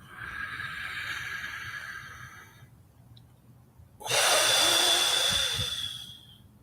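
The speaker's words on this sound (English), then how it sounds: "Inhale, exhale with your mouth, and pause for a second." Yoga breathing through the mouth: a long airy inhale, a pause of near silence, then a stronger, louder rushing exhale close to the microphone.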